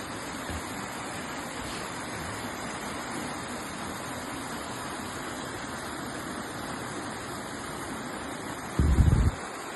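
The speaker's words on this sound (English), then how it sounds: "Here's a little video of my waterfall this morning." Soft, continuous rushing of a waterfall on a mountainside in the morning, heard from a distance as a steady wash; near the end a brief, louder low thump or rumble breaks through.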